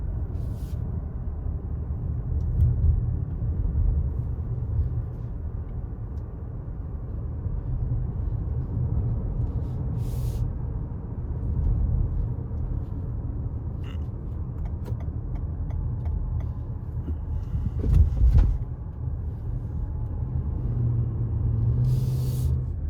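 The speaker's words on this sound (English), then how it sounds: "I find that there's just a little bit of road noise as you accelerate" Steady low road rumble and tire noise inside a 2021 Toyota Venza Limited while driving and accelerating, a continuous muffled drone with slight swells and a few faint clicks, no talking.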